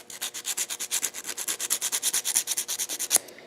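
A metal file rasps back and forth across the worn contacts of a Whirlpool clothes dryer's contactor: about two dozen quick, even strokes in a steady rhythm, close up, ending with a sharper scrape.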